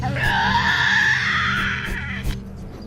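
A Tasmanian devil in a wild island forest lets out a loud, harsh, wavering scream lasting about two seconds, then fades to a few scuffs and knocks.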